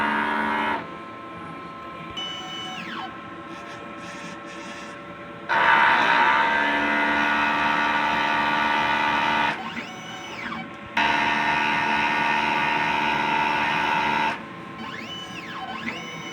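A DTF printer runs a head clean cycle, a loud mechanical drone with pump whirring and rising and falling motor tones that change in stages, steady and close with brief quieter gaps.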